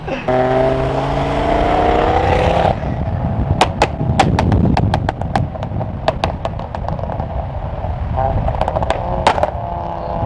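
Loud modified cars rev hard at a pre-event car meet for Powercruise, including a 2JZ-powered Hilux, with a roaring engine followed by a rapid string of sharp backfire cracks and pops, close and very loud as people talk.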